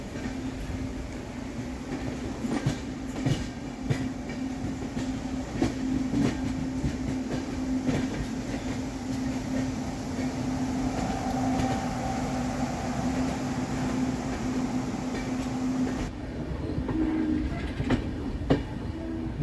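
Onboard the Barbil Jan Shatabdi Express running on the Howrah–Tatanagar line: a steady loud rumble with rhythmic clickety-clack wheel beats and a persistent hum throughout, no talking.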